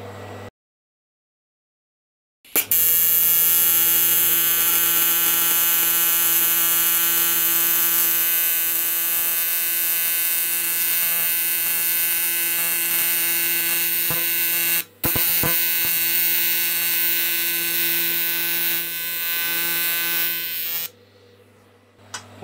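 An R-Tech TIG welder running on AC welds an inside corner of an alloy box section, giving a steady loud buzzing hum that starts abruptly, holds for about eighteen seconds with one brief break, then stops.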